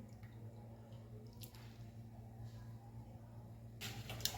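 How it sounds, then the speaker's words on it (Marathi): Soaked soybean chunks being squeezed out by hand in water at home, giving soft wet squishes and drips, faint and close with no talking, and a brief louder splash near the end. "सोयाबीन असे पाण्यात पिळून घेऊ"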